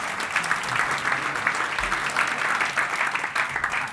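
Audience applause in a conference talk room, a steady wash of clapping from many hands that holds at an even, fairly loud level throughout.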